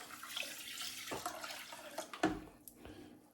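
Water from a tap splashes into a pot holding rice in an off-grid solar cabin kitchen, a quiet, uneven pouring and sloshing with a few sharper splashes near the end.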